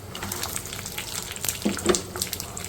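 Green chillies fry in a spiced masala in a pan for a yogurt chilli curry, giving a steady soft sizzle with faint clinks and stirring scrapes around the midpoint, close and moderately quiet with no voice.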